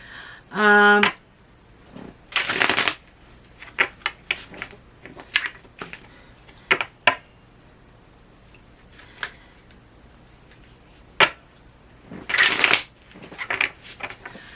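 Tarot cards are shuffled in short riffling bursts, with crisp flicks and taps scattered between them and a brief buzzing tone near the start.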